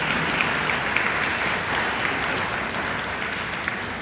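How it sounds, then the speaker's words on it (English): Steady, dense applause from an audience at a music workshop evening, a continuous wash of clapping held at even loudness for the whole stretch, with no voices over it. "Give yourself a round of applause for that."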